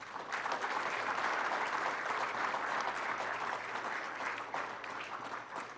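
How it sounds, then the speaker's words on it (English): Conference audience applauding the organizers, a steady, fairly faint wash of clapping from many hands that carries on evenly without voices. "They deserve a huge round of applause."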